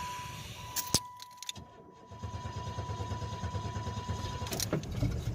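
A 1990 Chevrolet Lumina with a 3.1 V6 engine cold-starts: a sharp click and brief cranking, then the engine catches and settles into a steady, fairly loud idle that runs to the end, with a faint high whine above it.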